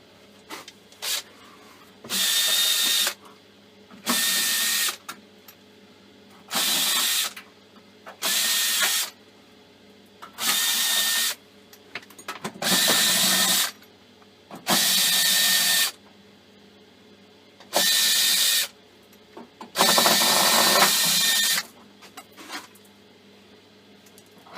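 A drill fitted with a screwdriver bit backs out screws in a run of about ten short whirring bursts, each lasting a second or so and separated by brief pauses, close and fairly loud.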